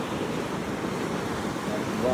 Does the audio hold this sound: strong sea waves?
yes